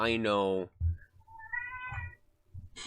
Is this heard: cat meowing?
yes